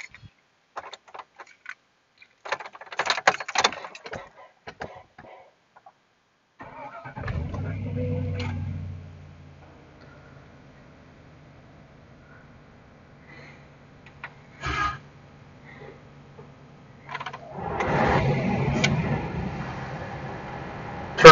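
A car engine cranks and catches, settles into a quiet idle, then revs up toward 2,000 RPM near the end during a charging-system voltage-drop test, with scattered clicks and handling sounds earlier.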